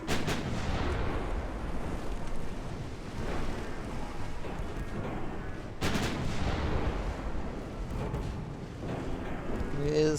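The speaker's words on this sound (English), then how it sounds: "He is coming in for a full broadside" Battleship broadside fire in the naval warfare game Ultimate Admiral: Dreadnoughts: heavy booming salvos erupt at the start and again around six seconds, over a continuous rumble of sea, surf and wind.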